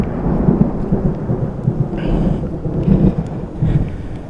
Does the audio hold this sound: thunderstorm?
yes